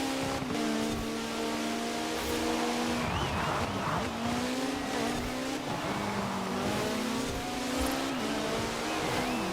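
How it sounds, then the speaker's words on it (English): A Caterham Superlight R500 in Forza Horizon 4 holds a steady engine drone through a corner, with tires squealing and skidding as it brakes and coasts round, loud and continuous throughout. "slowing down, letting the car coast around the corner."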